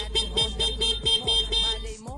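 A stock car horn sounds in a run of short, evenly spaced toots, fairly close and clear, ending in a brief pause with one final honk.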